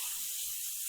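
A shower runs in another room of a home, a steady broadband hiss of falling water held faint and even throughout, with no voices over it.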